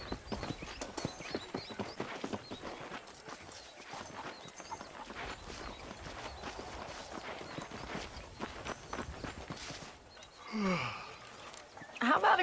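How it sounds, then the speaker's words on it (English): Horse hooves clip-clop at a steady walking rhythm while riding in the Western video game Red Dead Redemption, with brief talk near the end. "then riding a horse seems to take it out of you"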